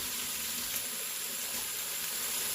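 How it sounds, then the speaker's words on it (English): About two cups of water poured into an Instant Pot of butternut squash soup, giving a steady hissing, splashing stream that stays even for a few seconds with no talking. "Now I'm just going to take about 2 cups of water."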